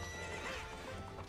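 A wild horse in The Legend of Zelda whinnies and neighs loudly over the steady clip-clop of hooves, a short, close game sound with no talk.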